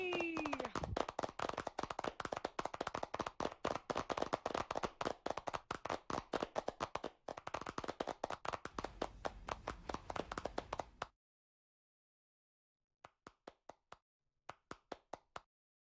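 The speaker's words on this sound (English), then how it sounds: "A round of applause for the technical issues." An audience at a digital art festival closing session gives a round of applause: crisp, close, individual hand claps in a steady rapid rhythm for about eleven seconds, then silence, then a few scattered claps.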